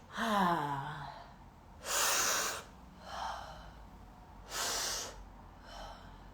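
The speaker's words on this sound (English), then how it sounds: "Let's do 6 breaths" Slow, deep nasal breaths during a guided morning breathing exercise, each long inhale rushing audibly through the nose, three or four full breaths with quiet gaps between, close and alone without talk.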